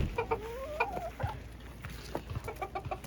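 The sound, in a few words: chickens clucking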